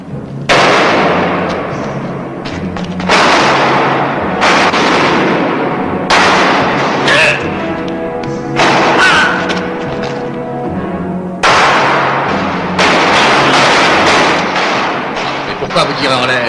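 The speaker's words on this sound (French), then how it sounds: "Mais pourquoi vous tirez en l'air?" Repeated gunshots fired into the air in a Western film scene, loud bursts coming every few seconds, several close together, each followed by a ringing decay.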